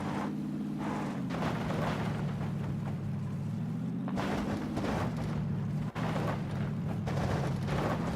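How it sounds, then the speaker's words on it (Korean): Bursts of gunfire in the video game PUBG: Battlegrounds pop intermittently in the background over a steady, droning vehicle engine, with one sharp crack standing out. "총소리가 계속 나니까."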